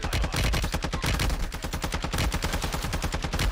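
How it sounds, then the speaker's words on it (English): Rapid automatic gunfire in a video game hits the player from behind, a dense, loud, continuous rattle of shots with no pauses. "I'm being shot in the back."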